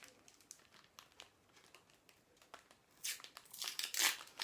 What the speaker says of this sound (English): I'd actually put it in the edge of the wrapper and roll it up like a sausage roll. Then a piece of tape.